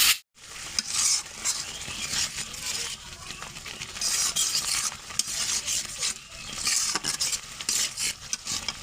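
Spice paste frying in a pan with green chilies added before tuna fish goes in, a close, uneven sizzle with bursts of spatter and stirring scrapes rising and falling, no voices.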